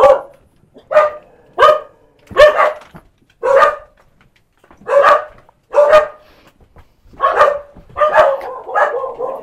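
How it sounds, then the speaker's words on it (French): Dogs in a Thai village bark about a dozen times in short, irregular volleys, fairly close and loud, with no talking. "il y a des chiens qui aboient"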